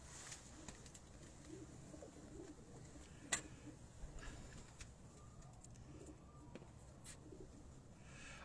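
A Lal Pari breed pigeon coos softly and steadily, a faint low murmur running throughout with a sharp click partway through.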